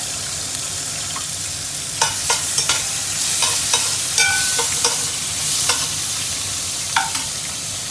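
Spices and minced garlic sautéing in a pan for fish escabeche, a steady oily sizzle broken by intermittent scraping and clinks of a utensil stirring against the pan.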